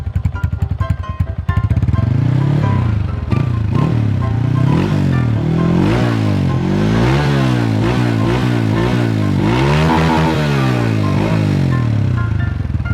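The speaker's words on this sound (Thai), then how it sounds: "เสียงท่อก็นุ่มๆเลยนะครับ" A Honda Wave 125 motorcycle exhaust idles and then revs repeatedly, close and loud. Its rising and falling engine pitch sweeps come in several throttle blips after a brief initial rattle.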